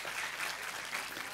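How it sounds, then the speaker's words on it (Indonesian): Steady applause from a room full of people at a gathering in Bimomartani, Indonesia, a dense continuous patter of clapping with no voices on top. "Tepuk tangan untuk beliau."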